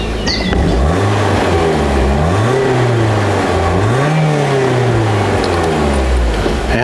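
A BMW Z3 engine runs close by and is revved repeatedly, its pitch climbing and falling in smooth swells over a steady loud idle, with no talk.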